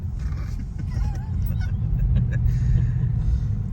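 A modified car's engine roars loudly with a deep, steady rumble that builds slightly toward the end, while people talk faintly nearby.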